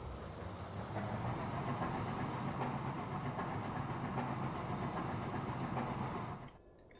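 A coal train runs in the rail simulation game Transport Fever 2, a steady rumbling roll with faint clickety-clack that holds constant for several seconds, then drops away abruptly near the end.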